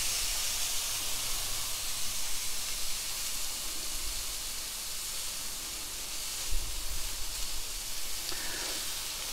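Roast beef sears in a hot pan with a steady, loud hiss and sizzle throughout, broadband and continuous with a brief bump of louder crackle near the end, no voices.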